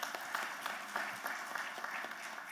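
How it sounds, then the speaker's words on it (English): A hall full of attendees at an annual conference applauds the President with a moderate, even patter of clapping. Individual claps stand out now and then, and the sound stays fairly soft and distant. "Can I have another round of applause for the President?"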